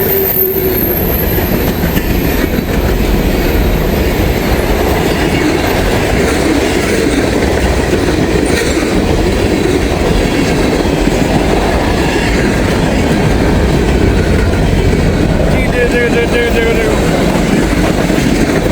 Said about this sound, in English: Had a heavy train here.